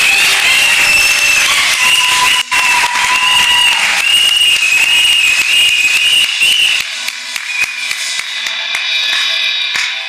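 A congregation applauds during a wedding blessing, with dense, sustained clapping filling a reverberant church. It is loud throughout, with a bright whistle-like tone riding on top before thinning toward the end.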